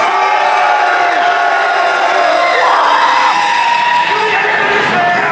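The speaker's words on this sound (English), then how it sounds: "And if you are rooting for Blue Scuti, make some noise" Spectators at a Classic Tetris tournament semi-final cheer, whoop and yell in a loud, sustained roar that swells briefly midway and stays strong throughout.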